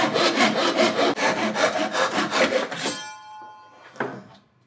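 A hand saw rasps through a wooden skirting board, cutting a mitre in steady, rapid back-and-forth strokes, then stops, followed by a couple of brief handling knocks.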